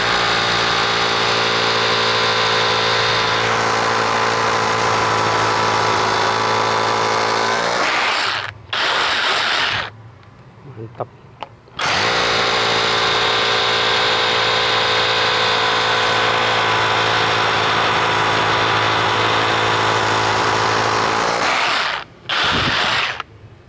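Mollar CHD20 hammer drill running in a loud, steady drilling burst that stops briefly near the middle, then starts again for a second long run before a short pause near the end.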